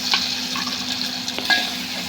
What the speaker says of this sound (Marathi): हे सर्व तेलावर फोडणी छान अशी परतून घ्यायची